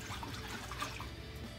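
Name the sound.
water in sink with soap for washing yarn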